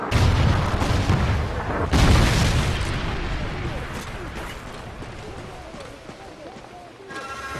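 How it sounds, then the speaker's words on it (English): Trinity rocket strike explosion in a shooter video game: a heavy boom at the start and a second big blast about two seconds in, followed by rumbling debris and crackle that slowly fade. "Friendly Trinity rocket inbound."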